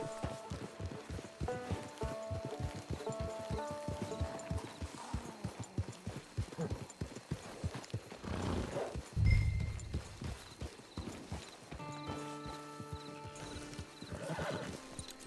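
Hooves clip-clop rhythmically at a quick pace amid Red Dead Redemption 2 Online game music, with a horse whinnying and snorting partway through.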